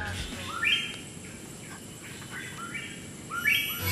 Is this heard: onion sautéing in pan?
no